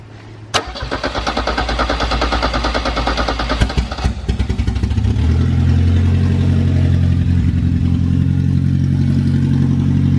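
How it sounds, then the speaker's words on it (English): A Mercedes engine with a freshly rewired fuel pump cranks with a rapid rhythmic churning, catches, and settles into a loud, steady, close-up idle that holds through the end. "Is that how it idled before? Sound better? More consistent now."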